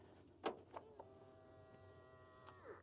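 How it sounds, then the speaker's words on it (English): A soft electric whir of an Alpine A290's doors powering open, with a few mechanical clicks and thumps at the start, close by and quiet. "the doors open automatically."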